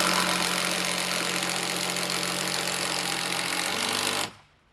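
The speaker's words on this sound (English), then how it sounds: "As soon as I get these 2 screws in." A power driver sinks screws into wood while building an off-grid homestead cabin. It makes a loud, steady, buzzing mechanical rattle for about four seconds, then cuts off abruptly into quiet.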